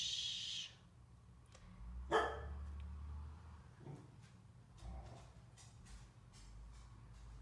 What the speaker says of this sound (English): That's our guard dog.